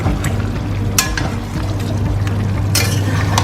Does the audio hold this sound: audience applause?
no